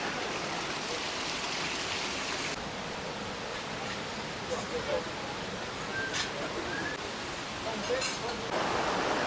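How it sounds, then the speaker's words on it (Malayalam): Small decorative fountains at a restaurant in Gabala, Azerbaijan, fill the air with a steady wash of falling water, broad and hiss-like, running unbroken throughout with faint brief clinks and distant sounds drifting over it. "വെള്ളം വീണ ഒരു സൗണ്ടാണ്. എല്ലായിടത്തും ഫൗണ്ടൻ റെഡിയാക്കിയിട്ട് വെച്ചിട്ടുണ്ട്"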